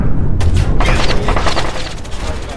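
Loud, booming gunfire fills the scene in the stealth video game Splinter Cell: Chaos Theory, a dense, continuous burst of heavy shots close up with a rumbling low end and no talking.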